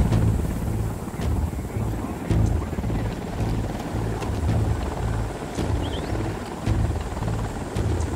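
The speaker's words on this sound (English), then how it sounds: "chopper's approaching" A helicopter in the video game Ghost Recon Wildlands drones steadily with loud, continuous rotor thrum and wind-like rush, holding close throughout.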